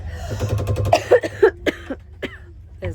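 A person coughs several times in a short burst, then a few softer throat sounds trail off, close to the mic.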